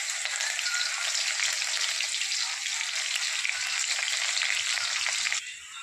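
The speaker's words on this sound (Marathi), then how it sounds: "तेल गरम झाले. आता टाकत आहे 1 अर्धा चमच जिरे, त्यानंतर कढीपत्ता आणि" Cumin, curry leaves and garlic hitting hot oil in a pan, a loud, dense, continuous sizzle heard up close that drops off abruptly just before the end.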